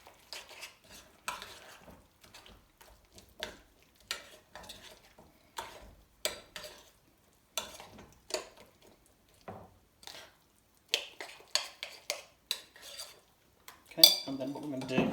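Spoon scraping and clinking around a bowl while lentil pakora batter for Bengali dali bora is mixed, a steady run of close, quiet taps and stirs, louder clatter near the end.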